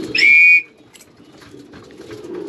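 A pigeon keeper's call whistle shrills loudly and nearby in one sustained blast lasting about half a second, then fades out, leaving faint outdoor background noise while racing pigeons of a red bar loft gather for a first toss.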